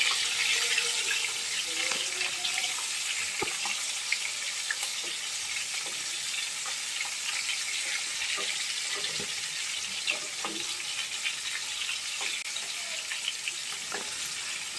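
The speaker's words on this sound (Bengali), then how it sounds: "আমি একদম হালকা হাতে ভেজে নিচ্ছি" Pointed gourd stuffed with chicken mince fries gently in a pan, making a soft, even sizzle with occasional light clicks, quiet and continuous.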